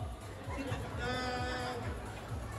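A person imitates a carabao (water buffalo) call during a playful game, a short, nasal, bleating-like vocal sound delivered close and moderately loud, with other voices faintly in the background.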